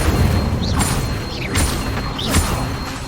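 Incendio fire spell cast in the Hogwarts Legacy video game, heard as three whooshing, booming magical bursts at steady intervals over a low ambient game backdrop.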